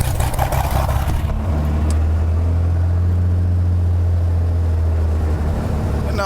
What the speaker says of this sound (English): Now engine start.